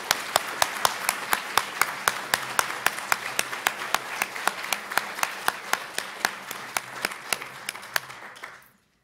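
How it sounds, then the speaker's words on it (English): A graduation audience at an International Baccalaureate ceremony claps in a steady rhythm, sharp claps standing out over broader applause, holding for about eight seconds before stopping abruptly. "Let's give them another round of applause."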